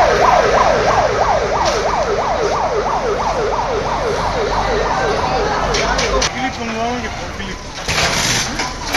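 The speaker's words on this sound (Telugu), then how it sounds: "మంటలు ఆర్పేందుకు 8 ఫైర్ ఇంజన్లు అక్కడికి వచ్చాయి" Fire engine sirens wail in rapid rising and falling sweeps as the trucks arrive at a large fire at an electrotech company factory in Kutch, Gujarat, loud at first and then breaking into scattered siren fragments, with voices speaking.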